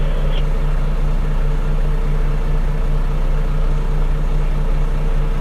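A heavy dozer engine held at full throttle, a loud, steady low drone with a strong, constant pulsing rumble and little change in pitch throughout.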